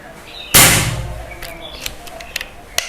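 One loud, abrupt report from an FX Royale 500 PCP air rifle fired on high power, with a short decaying tail followed by light ticks and outdoor background.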